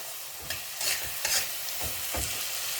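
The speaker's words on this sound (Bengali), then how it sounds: "এবার আমি ডালটা এর মধ্যে দিয়ে দেবো" Boiled lentils poured into a hot tempering in a pan, a steady close sizzle and fry with a few swells and stirring scrapes, no talk.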